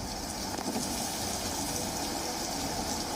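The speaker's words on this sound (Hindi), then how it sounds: "सिर्फ और सिर्फ तेज हवाएं, भारी बारिश और डरावनी आवाज" Heavy rain pours in a dense, constant roar with strong cyclone winds blowing through it, loud and unbroken throughout.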